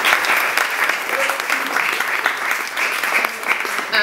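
A book launch audience gives a round of applause, a loud, thick, continuous patter of many hands clapping at once that holds steady throughout, with faint voices mixed in.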